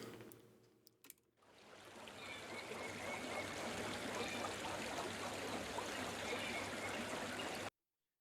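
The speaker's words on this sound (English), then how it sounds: "those are actually water and bird sounds just going on throughout the song" Flowing water with a soft trickling stream texture layered into a chill hip-hop track, running steadily and evenly for several seconds before cutting off abruptly; no distinct bird calls stand out above the water.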